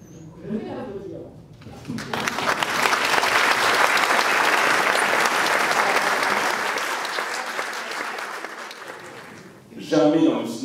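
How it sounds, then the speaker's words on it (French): A cinema audience at a film debate breaks into applause after a short stretch of talk, a loud sustained wave of clapping that swells, gradually fades, and gives way to speech again at the end. "je vais l'applaudir"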